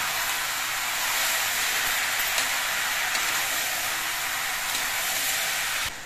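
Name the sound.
bottle gourd with salt and turmeric sizzling while stirred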